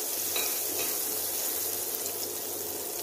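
Shallots and garlic fry in a little leftover oil in a pan, giving a steady bright sizzle with faint stirring and a low hum beneath, without any speech.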